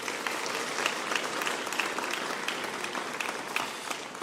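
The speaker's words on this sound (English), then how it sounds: "Let's give them both a round of applause" Steady applause fills a conference hall, honoring a Polish academic conference president, with dense, continuous clapping at even loudness throughout and no voices on top.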